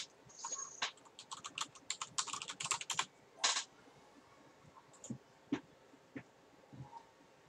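Someone types on a computer keyboard in quick bursts of close clicking keystrokes, then pauses and adds a few scattered taps, faint overall against a quiet background.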